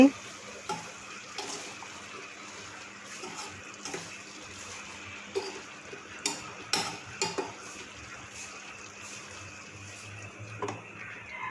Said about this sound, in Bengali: কিছুক্ষণ রান্না করে এখন আবার নাড়াচাড়া দিচ্ছি